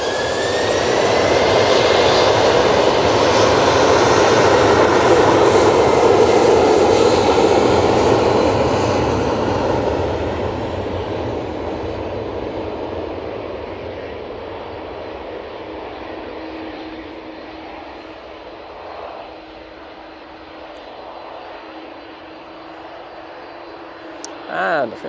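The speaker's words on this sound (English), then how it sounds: "Also got the Virgin Atlantic A350-1000. That's going to Orlando." Jet engines of a Virgin Atlantic Airbus A350-1000 and an Aer Lingus airliner at Manchester Airport, a loud close roar that swells for the first several seconds and then fades into a lower distant rumble, with people talking.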